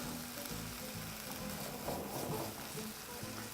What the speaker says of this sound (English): I'm just going to go in with some milk